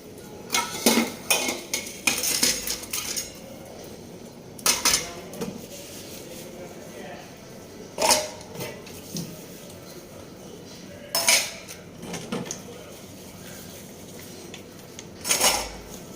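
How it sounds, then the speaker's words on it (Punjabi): Dishes and cutlery being washed: repeated clattering bursts of plates, pots and utensils knocking together, spaced every few seconds with quieter handling in between. Nearby and fairly loud. "ਹੁਣ ਸਾਰੇ ਭਾਂਡੇ ਸਾਫ਼ ਕਰ ਲਾਂਗੇ"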